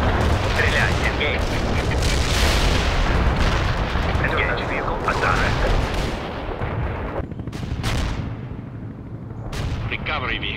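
Heavy artillery barrage in the World in Conflict video game, with dense, continuous rumbling blasts and gunfire filling the whole stretch, loud and close, with a few sharper bursts toward the end.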